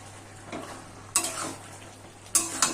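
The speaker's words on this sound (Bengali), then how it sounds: "আমি এখন নাড়াচাড়া করে আবার ঢাকা দিয়ে দেব" A spoon scrapes twice through a pot of Bombay duck (lote fish) curry with bottle gourd stems and eggplant, sharp close stirring strokes over a faint, steady simmer.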